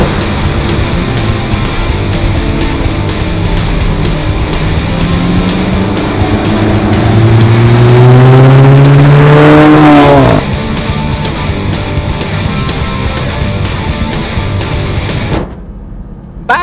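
Alfa Romeo 4C coupe engine revving up as the car accelerates, a rising loud engine note climbing through the gears, then dropping back at a shift before cutting off near the end.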